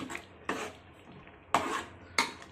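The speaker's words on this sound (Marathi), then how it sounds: "ढवळून घ्यावं पूर्ण" A spoon stirs a thick pav bhaji vegetable mash in a pan, making four short, distinct scraping bursts at an uneven pace, close and fairly quiet, with nothing else in between.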